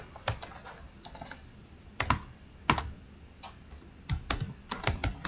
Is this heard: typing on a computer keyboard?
yes